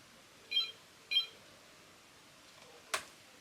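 A Disney Mickey Mouse limited edition animated telephone gives two short, faint electronic bloops about half a second apart, followed later by a brief click, heard alone in a quiet room.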